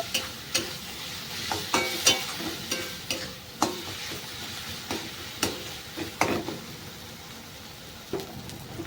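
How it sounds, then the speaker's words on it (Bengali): Spoon scraping and stirring through chili, coriander, garam masala and meat masala powders frying in a pan for a cauliflower and egg curry, with rhythmic clanks over a soft continuous sizzle. "মশলাগুলোকে ভালো করে কষিয়ে নিতে হবে"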